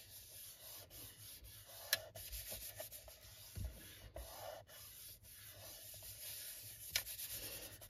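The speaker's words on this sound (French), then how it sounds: "je colle mon papier sur ma base" Steady dry rubbing and scraping of paper being glued onto a card base, continuous with small scuffs and a few light taps, close and fairly quiet.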